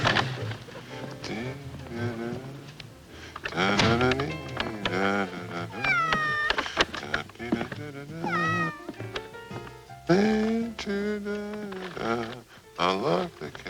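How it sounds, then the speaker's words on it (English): A cat meows repeatedly, with rising and falling drawn-out calls close by, some long and wailing, others short, over a quiet background. "I love the cat."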